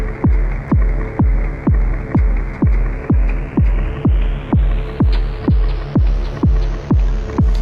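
A low modular synthesizer drone pulses in a steady, even rhythm, its filter swept by a built-in LFO on each beat while the tone gradually brightens over time.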